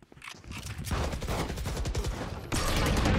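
Gunfire in a multiplayer video game crackles as rapid, dense bursts of shots that build and continue loudly, with a sharper volley near the end.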